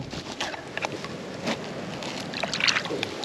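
Water sloshing and splashing as a freshly caught blueclaw crayfish is rinsed of dirt outdoors, a run of small close splashes and trickles over light wind.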